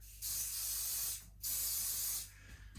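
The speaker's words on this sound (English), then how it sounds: "So I'm going to spray on a little bit of accelerant." Two long bursts of aerosol spray as accelerant is sprayed from a can, each lasting about a second, loud and close with a short pause between them and no talking.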